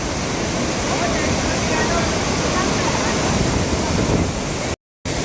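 A loud, constant roar of Abbi Falls fills the scene, with a brief dropout near the end.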